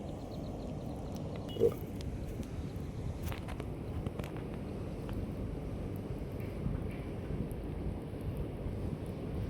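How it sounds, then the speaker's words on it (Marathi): Heavy rain pours down in a continuous, dense roar, with gusts of wind buffeting the microphone. "जोरात पाऊस पडायला लागलेला आहे"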